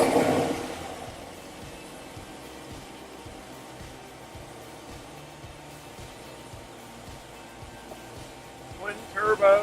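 A 2016 Corvette Stingray C7 with a forged twin turbo engine runs at a steady idle with a regular low pulsing throb. It stays moderate in level throughout, with a brief louder burst of sound near the end.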